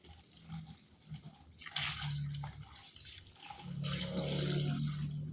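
Liquid poured into a pot of whole chicken for ginataang manok, a close gurgling splash in two sustained bursts with a brief lull between, fairly quiet overall.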